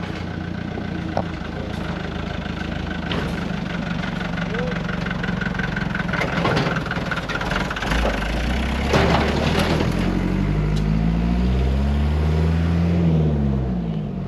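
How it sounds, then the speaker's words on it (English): A truck passing along a road in Nicaragua, a low engine rumble that swells and shifts pitch as it nears and goes by, loud and close under steady background noise. "There's actually a truck coming down this road"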